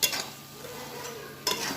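A spoon scrapes and stirs a thick beetroot and coconut ladoo mixture in a pan, with a steady close scraping and two louder bursts of stirring at the start and the end.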